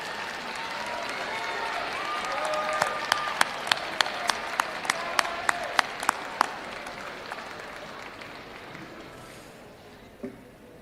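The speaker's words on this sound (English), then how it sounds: "I would like to invite you to turn and applaud your parents, family members, and friends who have supported you throughout this journey" Graduates at a spring commencement ceremony applaud their families and friends, sustained crowd clapping filling a large hall with a series of sharp, regular tones sounding above it, the applause gradually fading away toward the end.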